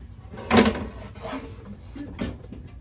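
Window glass slides and scrapes out of its tight rail inside a Jeep driver door, in a few short grinding bursts of close, moderate-volume friction.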